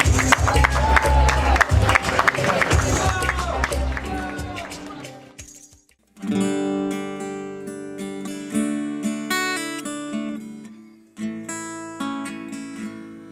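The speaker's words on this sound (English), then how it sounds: "Please give a big round of applause for Meghna and Andy." Audience at a wedding reception bursts into loud, dense applause and cheering for about six seconds; the crowd noise then cuts off and live music with singing begins.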